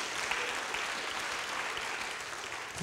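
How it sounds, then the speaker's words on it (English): Congregation applause during a church sermon, a soft, steady wash of clapping heard from some distance for a few seconds. "I need you to clap right there."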